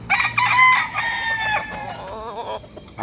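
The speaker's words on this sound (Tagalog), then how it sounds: "sa may net. Yung mga broodcock." Gamecock broodcocks at a fighting-rooster farm in Barangay Santor, Tanauan City, Batangas, crow in a loud, close, drawn-out call with a few clucks. It is heard alone, without talk.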